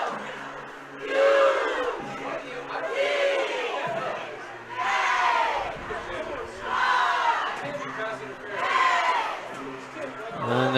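A high school football crowd at Harrisburg at Chambersburg boos and shouts in disapproval of a penalty call, in several rising and falling waves of massed voices from the stands.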